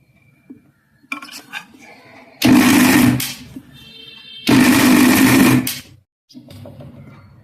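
Mixer grinder crushing a prawn vadai mixture in two loud bursts of a couple of seconds each, separated by quieter moments with faint background talk.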